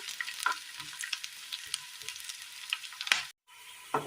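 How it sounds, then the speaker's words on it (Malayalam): Onion and chopped green chillies sauté in a pan for a Kerala curry, crackling and sizzling up close with repeated spatula scrapes and stirs, briefly cutting out near the end. "2 പച്ചമുളക് അരിഞ്ഞത് ചേർത്ത് കൊടുക്കാം. ഇത് നന്നായി ഒന്ന് വഴറ്റിയെടുക്കാം."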